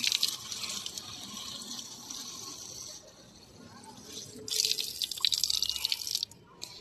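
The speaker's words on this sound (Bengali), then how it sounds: "এইভাবেই আমি সব গাছে জল দিয়ে দেব" Water splashes onto garden plants, including a chili plant, from a container outdoors, in close bursts of gushing and pattering with a quieter stretch between them.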